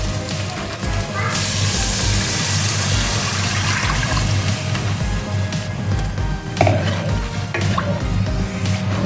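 Water is poured into a pot of boiled, fairly dry cassava leaves, Padang style, making a steady, close rushing splash with a few drips and small knocks and no speech.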